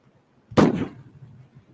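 A single sharp gunshot crack rings out in Palestine, fairly close and loud, with a short echoing tail fading into quiet background.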